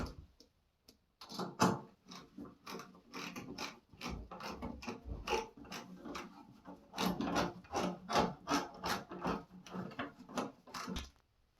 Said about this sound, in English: Put this screw on.